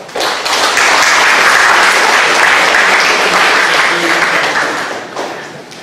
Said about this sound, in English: just we give Professor Bakar applause